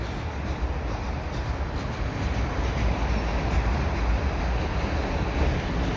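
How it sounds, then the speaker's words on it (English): Steady low rumble of a CN mixed freight train rolling past, continuous and moderately loud with faint rattling on top, no voices. "think this train is actually kind of picking up a bit."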